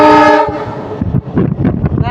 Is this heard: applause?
no